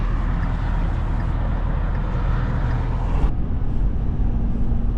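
A truck rolls down the I-10 highway in Arizona. A loud, steady low rumble of engine and road noise is heard from inside the cab.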